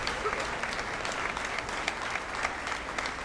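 Audience applause at a 2018 school sports awards show, a steady wash of many hands clapping at even volume throughout, with a faint murmur of voices underneath.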